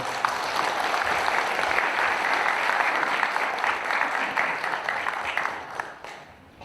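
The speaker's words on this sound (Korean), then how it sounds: "박수도 쳐주고 응원도 해주시고." A hall full of citizens at an education forum applauds a school principal, with sustained, full clapping from a sizable crowd that tapers off near the end.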